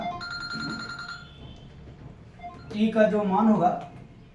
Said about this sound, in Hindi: फोन आ गया भाई, उठा लिया क्यों नहीं?